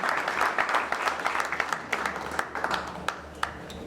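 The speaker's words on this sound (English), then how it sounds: "Let's give him a big round of applause." An audience at a Coca-Cola launch event claps steadily for an incoming speaker, a moderate wash of applause with individual hand claps standing out, fading slightly toward the end.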